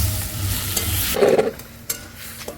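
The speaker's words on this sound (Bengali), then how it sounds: "চাটনিটা কি সুন্দর রান্না হচ্ছে জানো" Tomato chutney cooks in a pan over a hot flame, with a close, steady sizzle and the scrape of stirring, then a brief, louder burst of frying.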